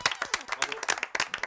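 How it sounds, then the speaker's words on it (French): Audience at a French television quiz pilot applauds the winning team, giving a short burst of distinct, fairly sparse hand claps at moderate loudness with no talking. "On applaudit l'équipe 1."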